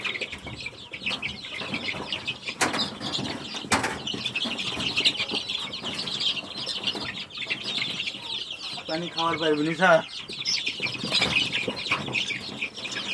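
Desi chickens cluck in a farm shed, with a steady chorus of calls and a louder burst of clucking near the end, partly under a man's conversational speech.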